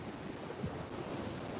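Ocean waves wash steadily against the West Jetty, where people surf and fish, with a continuous broad rushing surf and some wind buffeting the microphone, and no voices.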